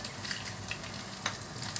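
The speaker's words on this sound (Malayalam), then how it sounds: "നമ്മുടെ ഉണക്കമുളക് വറുത്തിങ്ങ് കോരി എടുക്കണം." Washed dried red chilies frying in hot oil, a quiet steady sizzle dotted with small sharp pops and crackles.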